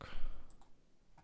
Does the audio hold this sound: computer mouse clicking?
yes